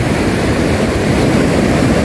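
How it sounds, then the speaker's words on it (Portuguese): Floodwater from heavy rain rushes out in a continuous, loud, broadband roar, close and unbroken, with no voices. "aonde me parece que a água estoura aqui"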